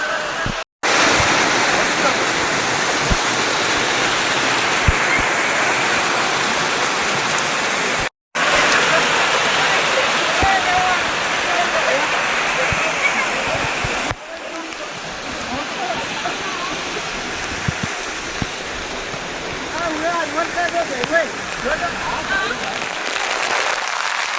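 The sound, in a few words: heavy rainwater flowing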